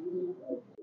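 A red-neck pigeon at a Khulna pigeon farm gives one short, low, close coo with a brief throaty swell, with no talk over it.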